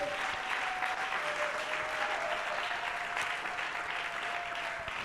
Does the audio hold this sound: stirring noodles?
no